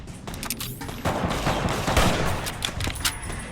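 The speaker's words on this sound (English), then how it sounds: "That sounded like a hefty gun that person had." Heavy gunfire from a hefty weapon in Fallout New Vegas, a rapid loud burst of overlapping shots and booming reports crowding a few seconds, close and dense.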